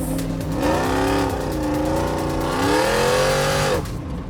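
A 1000hp all-wheel-drive Ford Bronco accelerates hard, its engine roaring loud and close as the pitch climbs, dips with a gear change, then climbs again before cutting off near the end.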